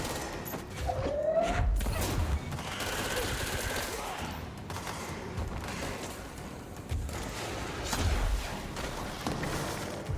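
Rapid bursts of automatic gunfire from Jesse's gun in the game Control rattle in dense, sustained volleys over a few seconds, mixed with booms and mechanical clatter.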